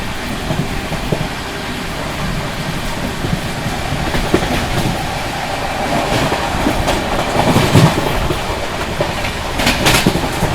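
Mumbai Rajdhani Express running on rails soon after leaving Delhi, a steady rumble of wheels on track with scattered clatter and rattles, loud and close throughout with no voices.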